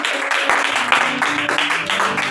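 A church congregation applauds during an all-night prayer service, producing a dense, steady wash of clapping that stays fairly loud and even throughout, with musical tones and voices mixed in.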